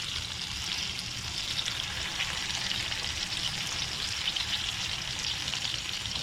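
Eggs and bacon sizzle steadily in a pan, a dense, even crackle and hiss that holds at constant loudness throughout with no talking.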